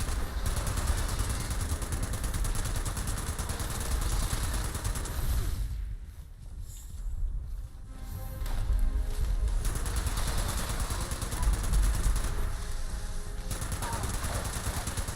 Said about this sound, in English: I absolutely love this 50 cal. It's a Bloodied explosive.